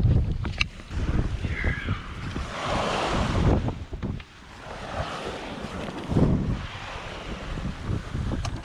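Strong wind buffets a sailboat at sea off blustery New England before dawn, with waves surging and splashing around the hull, a loud, roaring wash swelling and easing under heavy microphone wind noise.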